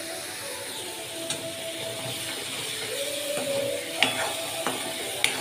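A spice paste (masala) with a little water simmers in a pan over a low gas flame, giving a soft, steady sizzle with a few faint clinks and taps from the pan.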